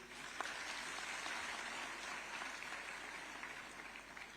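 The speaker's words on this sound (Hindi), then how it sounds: "आपकी अनवरत तालियां अपेक्षित हैं" Steady applause fills a hall at a government ceremony where agriculture department appointment letters are handed to newly appointed candidates, a continuous even clapping from start to finish.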